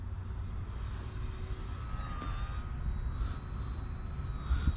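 A radio-controlled Yak55 model plane flies in gusty wind, its electric motor giving a steady whine with tones that rise and fall as it maneuvers, heard at a moderate distance over a constant rumble of wind noise.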